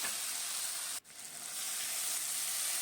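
Five or six slit green chillies hit hot oil for a Bengali banana flower curry, giving a loud, continuous close-up sizzle that briefly drops out for an instant, then swells back to a steady hiss.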